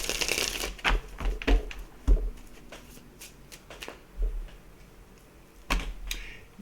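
A deck of playing cards is shuffled in several quick, crisp riffles and taps, close and fairly quiet, with short pauses between bursts.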